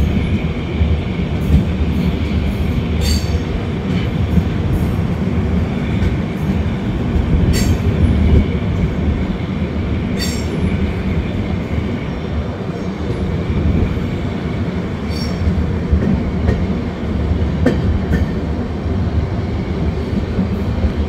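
The 13126 Sairang–Kolkata Tri-Weekly Express rolls through Goalpara Town station at platform 2 with a loud, continuous rumble of wheels on rails, plus rhythmic clacking and occasional metallic squeals.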